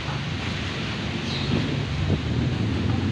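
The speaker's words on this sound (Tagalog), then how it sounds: "malakas na hangin" Steady, strong wind roars and buffets the microphone throughout, a continuous broadband rush with gusts swelling slightly toward the end.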